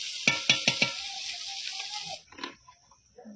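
Cumin seeds fry in a pan with a bright, close sizzle as four quick spatula strokes scrape through them. The hiss cuts off after about two seconds, followed by faint clinks and handling noises.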